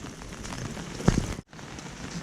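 Rain patters steadily on a surface outdoors in a rural Thai or Lao setting near pepper plants, a continuous close wash with a brief dropout partway through and no talking.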